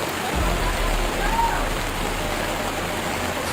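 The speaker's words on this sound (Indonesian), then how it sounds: "Wah, hujan." Heavy rain falls steadily during a flood in Lebong, Bengkulu, a dense continuous hiss with deep low rumble, nearby and uninterrupted throughout.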